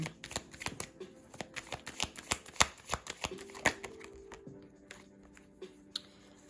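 Tarot cards shuffled by hand in a steady run of soft, papery flicks and slaps, close up and moderately loud, with no speech.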